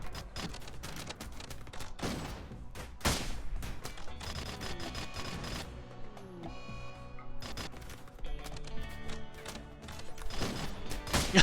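Bolter fire rattles through a RimWorld space marine battle, dense bursts of rapid shots that stop and start, with overlapping layered game sound effects throughout.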